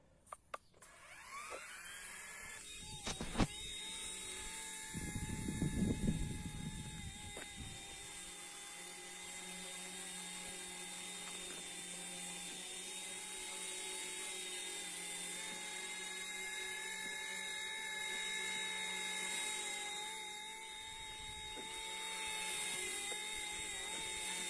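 A remote-controlled EC145/H145 model helicopter flies with a sustained high-pitched whine of motor and rotor tones, steady and fairly close, with a few bumps and thuds early on.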